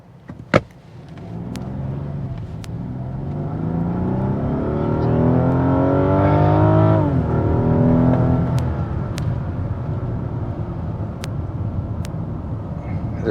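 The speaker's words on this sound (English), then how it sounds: "All right, I've turned on the traction control profile. We'll see if we can get a little better launch this time." A 600 HP Rolls Royce Wraith launches hard with traction control engaged, a thump followed by a rising engine roar through the gears, one brief dip at a shift, then a fading cruise with faint clicks.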